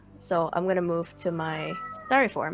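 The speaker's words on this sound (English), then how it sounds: "Sorry, that's my cat." Pet cat meowing in a few short, high, wavering cries close by, interleaved with a person talking over it.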